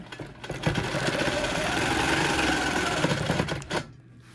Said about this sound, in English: the first thing I'm going to do is I'm going to stitch the straight line from corner to corner